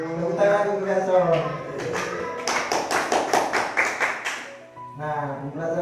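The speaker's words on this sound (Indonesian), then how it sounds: "Tepuk tangan untuk Erson." A small classroom group claps for a student, a short burst of quick, rhythmic applause lasting about two seconds, with a teacher talking just before and right after.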